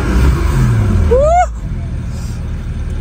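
A Porsche 718 GT4 engine revs with its exhaust valve open, a loud, rising rev that peaks and then drops away over a steady idle rumble, with no talk.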